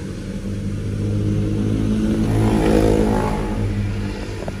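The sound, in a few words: Daihatsu Sirion car engine starting and revving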